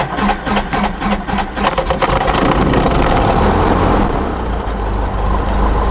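Small aircraft engine starting and settling into a steady idle, loud and close with a continuous droning rumble.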